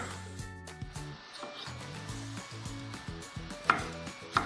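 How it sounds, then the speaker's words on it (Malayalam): Tomatoes being sliced with a knife on a cutting board for a chicken curry, giving a run of light, irregular chopping taps and scrapes with a few sharper clicks near the end, alone and fairly quiet. "ഇനി നമുക്ക് ഇതിന് വേണ്ട തക്കാളി ഒന്ന് നന്നായിട്ടൊന്ന് സ്ലൈസ് ചെയ്തെടുക്കണം"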